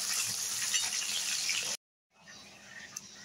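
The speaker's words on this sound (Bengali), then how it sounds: "এইভাবে অল্প অল্প করে সবগুলো মাংস আমি ভেজে তুলে নেব।" Chicken pieces shallow-frying in hot oil in a kadai give a steady close sizzle that cuts out abruptly, then a quieter sizzle resumes.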